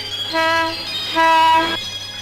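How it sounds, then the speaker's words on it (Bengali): A train at a station sounds two long, loud horn blasts in succession over a low rumble as it departs. "তোমার ট্রেন এখন ছেড়ে যাবে। ট্রেন ছেড়ে গেল"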